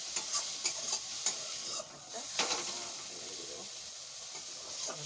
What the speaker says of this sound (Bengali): এই যে শাকটা ভাজা হচ্ছে